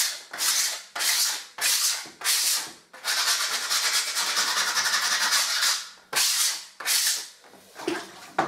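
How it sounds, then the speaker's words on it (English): Painted wallpaper on a wall being sanded by hand: rhythmic rasping strokes, several short passes, then one long continuous scrubbing stretch, then more short strokes, close and fairly loud with no talking. "he's doing a lot of sanding and stuff"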